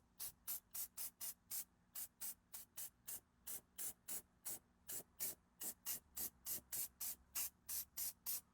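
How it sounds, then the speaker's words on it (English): Short bursts of spray paint hissing from a can onto a C6 Corvette, repeated in a steady rhythm of around thirty quick sprays, close and fairly loud. "Now we're just gonna apply the spray paint."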